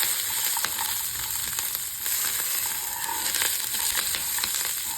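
Garlic and curry leaves frying in a hot pan for a groundnut and coconut chutney, with the stove switched off; a steady, close sizzle crackles without pause throughout.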